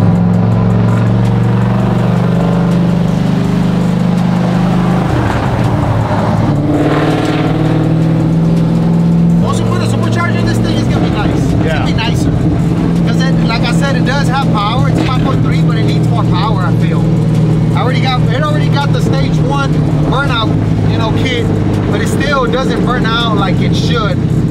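Someone's SS, a Chevrolet with a 5.3 V8 and a swapped cam, rumbles loudly and close with a deep, lopey idle and a couple of revs, while voices talk over it.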